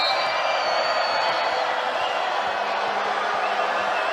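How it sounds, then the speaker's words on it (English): Arena crowd noise at a Cincinnati vs BYU women's college volleyball match, a sustained roar with whoops and cheering, loud and steady throughout. "Crowd making some noise."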